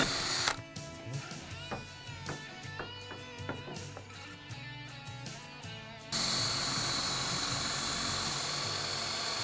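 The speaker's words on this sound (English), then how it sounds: "So I'm going to drill through, placing a board on the underside just to help protect the opposite side of the door." A power drill bores through a wooden barn door backed by a board, running in several bursts with whirring and grinding, then a steady broadband roar that holds loud and close to the end.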